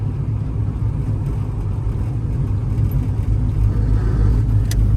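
Engine of a 1968 Chevrolet C10 pickup truck while driving, a steady, loud low rumble with road noise from inside the cab, no talking and no exhaust irregularities.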